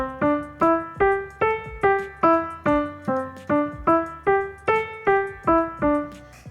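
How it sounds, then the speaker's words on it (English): Major pentatonic scale played on a keyboard, about fourteen evenly spaced sustained notes climbing and then descending, clear and close with no talking. "So your major pentatonic scale sounds like this."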